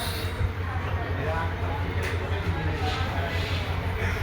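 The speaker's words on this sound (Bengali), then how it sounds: "ঢাকা থেকে খুলনা সুন্দরবন ট্রেন ফরিদপুর স্টেশনে ঢুকতেছে" The Sundarban Express from Dhaka to Khulna pulls into Faridpur railway station, a continuous low, heavy rumble of the moving train under general platform noise.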